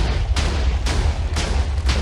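TNT blocks detonate in Minecraft, a run of four or five booming blasts spaced roughly half a second apart, loud and close with a low rumble between them.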